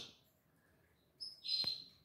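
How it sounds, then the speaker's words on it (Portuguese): A male Belgian canary chirps briefly in the background of an aviary: faint, short high notes followed by a sharper, louder trill near the end. "E de fundo aí vocês estão escutando o outro machinho que eu tenho"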